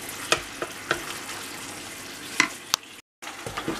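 Food stewing in a pan while being stirred, with scattered clinks and scrapes of a utensil over a soft, steady sizzle, close by, and a brief silent gap near the end.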